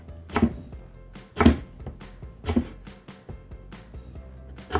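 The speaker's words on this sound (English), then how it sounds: "Then turn it around and slice it into little dices." Knife dicing taro on a cutting board: about five sharp, heavy chops spaced roughly a second apart, close and distinct with quiet gaps between them, and no talking.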